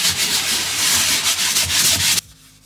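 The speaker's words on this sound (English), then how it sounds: "So I've got to sand this down and then I'm gonna paint it" Steady rasping strokes of a makeshift sanding block working over a painted surface, loud and close, continuing for about two seconds before stopping abruptly into near silence.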